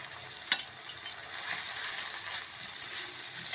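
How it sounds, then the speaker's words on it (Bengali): Spices with chili powder frying in a pan for an eggplant dish, a steady close sizzle and crackle with a sharp scrape or clink early on and faint ticking stirring throughout, no talking. "মশলাটাকে আমি এবার একটু কষে নেব।"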